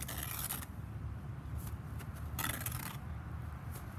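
A steel trowel spreading and trimming mortar on a brick, producing short gritty scrapes in separate strokes, near and fairly quiet, alone without talk.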